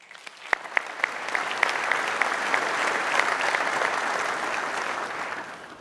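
An audience at an opening ceremony breaks into applause, starting with a few scattered claps that swell into steady, dense clapping from many hands, then begin to fade near the end.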